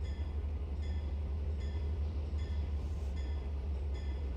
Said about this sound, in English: This train is so long he's blocked access from the north